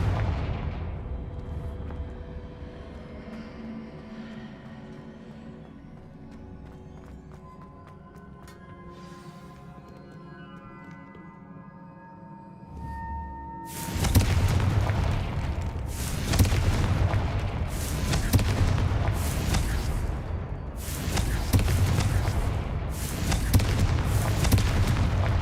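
Repeated Confringo blasting-spell explosions in the Hogwarts Legacy video game, a dense run of loud, booming bursts firing in quick succession after a quieter stretch of game ambience, with no talking.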